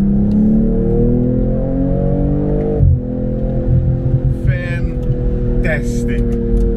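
A BMW M240i's B58 six-cylinder engine revs steadily with a smooth, loud drone that dips briefly and then rises again as it accelerates, heard close up.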